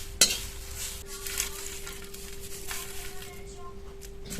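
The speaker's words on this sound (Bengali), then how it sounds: "পাতাগুলো একটু টাইম নিয়ে ভেজে নিয়েছি আর দেখুন আওয়াজটা শুনেই বোঝা যাচ্ছে একটু মড়মড়ে হয়েছে" Curry leaves fry slowly in hot oil over low heat, giving a steady soft crackle and sizzle throughout, with a brief sharp clink of a utensil against the pan near the start.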